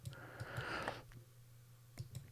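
Computer keyboard typing: a quick run of light, close clicks and taps over a steady low electrical hum, then a few scattered keystrokes after a short pause, with no talking.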